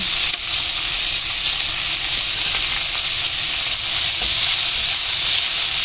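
Chopped onion sizzles and fries in an oiled pan with pork, salt and pepper for adobong kangkong, giving a steady, loud, close hiss with faint crackles throughout.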